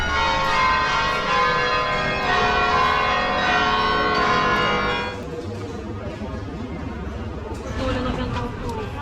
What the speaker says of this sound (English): Right on cue we have the bells.